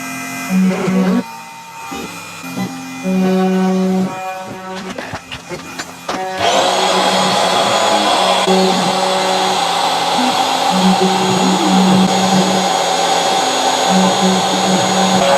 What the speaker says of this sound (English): I'll start my spindle up and then push the go button.